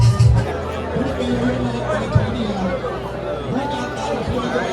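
Crowd chatter and cheering along a half marathon course in Moshi, Tanzania, a steady babble of many voices close by with occasional louder shouts rising above it.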